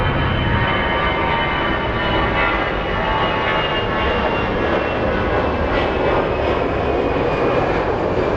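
Airliner engines at Phoenix Sky Harbor airport, a loud, steady broadband roar with a thin high whine running throughout, close and unbroken.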